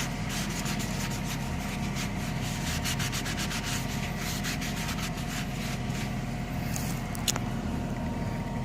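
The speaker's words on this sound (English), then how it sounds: "We're wiping it off." Rust remover is wiped off a boat part with a cloth in steady, repeated rubbing strokes, close and continuous, with a brief sharp tick near the end.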